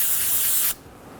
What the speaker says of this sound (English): Using a clean rag and some parts cleaner, we're going to spray our rag